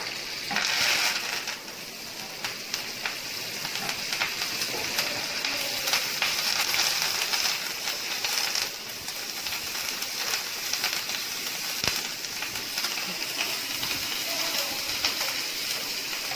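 Curry leaves crackle and spit in hot coconut oil in a pan, a steady close sizzling hiss that continues throughout with small pops.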